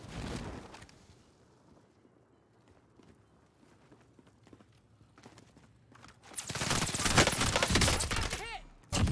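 Gunfire in the video game Warzone, sparse faint clicks and footsteps at first, then a loud burst of rapid shots and clatter near the end.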